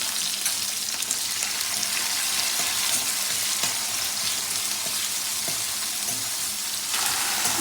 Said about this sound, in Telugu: దీంట్లోనే కొంచెం కరివేపాకు, ఉల్లిపాయ వేసి అంచాలి.